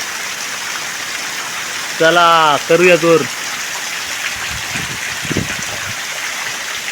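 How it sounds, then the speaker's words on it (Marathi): Steady heavy rain falls over flooded rice paddy fields during transplanting, a constant wet hiss throughout, with someone briefly talking over it near the middle and a few soft splashes later. "हा बघा पाऊस बघा किती आहे"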